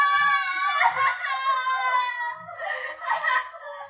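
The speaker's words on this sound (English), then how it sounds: "They scream because they remember things." A patient screams in a high, wailing voice in an old radio drama, two long anguished cries that rise and fall, heard fairly clearly with no speech over them.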